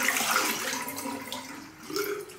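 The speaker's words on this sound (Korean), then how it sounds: "그냥 물을 이렇게 졸졸졸졸 따라서 버려주시면 끝입니다." Water trickles and gurgles as it is poured out of the tank of an LG or Samsung clothing care machine, a soft continuous splashing stream that briefly swells near the end.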